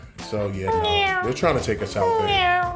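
A cat meowing sound effect plays loud and close in two drawn-out, wavering cries, with people talking over it.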